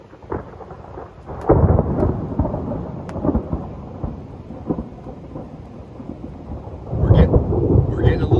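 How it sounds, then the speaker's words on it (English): Deep rumbles of thunder roll through steady rain and hail patter at a campsite, swelling loud twice, with sharp cracks between. "We're getting a little thunder and lightning show too with this hailstorm."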